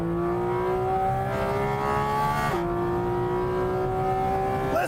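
A Porsche Cayman engine pulls steadily under acceleration, a loud continuous tone rising slowly then dipping briefly at a gear change before climbing again, heard close and without talk.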